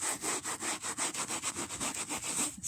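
A sponge scrubs sofa fabric in quick back-and-forth strokes, about a dozen even, rasping rubs in a steady rhythm, close and fairly loud with no talking.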